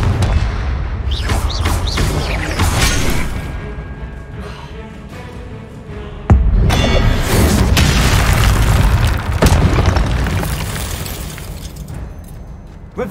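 Confringo blasting spell in Hogwarts Legacy on PS5, heard as loud, booming explosions with sharp cracks that recur across the stretch, and one especially hard hit midway.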